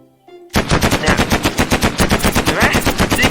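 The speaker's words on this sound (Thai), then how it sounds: "เวลายิงครับเนี่ยเห็นไหมเราอยู่ในโหมดยานเราก็ยิงได้ลยทุกคนนะ" Rapid automatic spaceship gunfire in the Mini World video game, a loud sustained burst of evenly spaced shots that starts abruptly after a brief quiet moment and carries on without pause.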